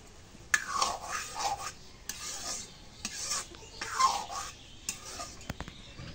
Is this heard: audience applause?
no